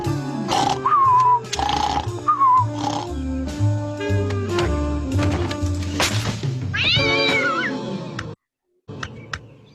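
Cats meowing from a television, a dense run of loud, overlapping meows and yowls with grunting sounds mixed in, broken by a brief silence near the end.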